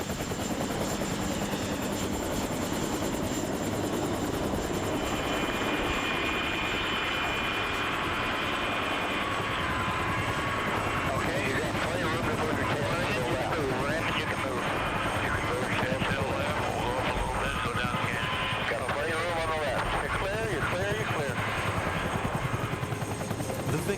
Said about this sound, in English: helicopter to hold their hover and to lower a cable and safely bring the patient up